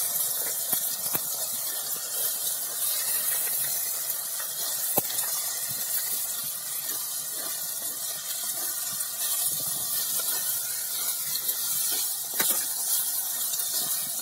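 Onions and tomatoes sautéing in a pan, a steady soft sizzling hiss with occasional faint clicks, continuous with no talking.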